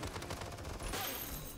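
Rapid gunfire bursts from a hero shooter match in Paladins, a dense run of shots through the whole moment with a brighter, louder stretch toward the end.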